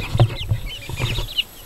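A bearded chicken clucks close by in a few short, throaty bursts with higher chirpy notes between them, loud and alone with no talk.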